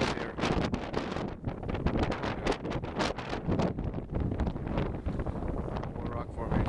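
Strong wind gusts buffet the microphone on a hike through a canyon of volcanic rock formations, a loud continuous roar with a person talking over it.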